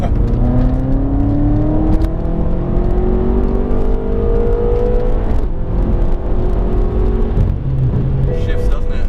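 A BMW F10 M5 accelerating hard, its engine note climbing steadily and dropping at each gear shift, heard loudly from inside the cabin as people talk over it.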